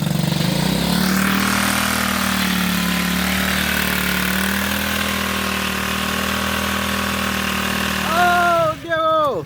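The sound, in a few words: motorcycle engine running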